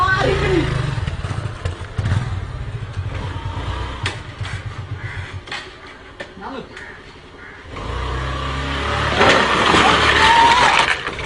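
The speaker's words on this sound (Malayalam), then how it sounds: "ഞാൻ വീൽ ചെയ്യാൻ പോട്ടെ" A motorcycle revs hard in rough, pulsing bursts during a wheelie stunt, with a quieter stretch midway, then loud revving again and some clatter, with voices talking in the background.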